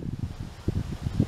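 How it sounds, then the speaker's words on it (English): Gusty wind buffets the microphone in low, uneven bursts on an overcast day outdoors while Murray cod fishing, with no talking. "It's got a bit overcast, very windy."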